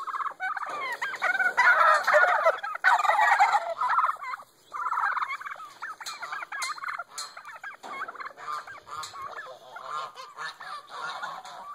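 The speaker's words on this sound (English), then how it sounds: "Oh, those turkeys. Look at them." Several turkeys gobble loudly and continuously on a farm in overlapping bursts, a dense warbling chorus close by with brief pauses.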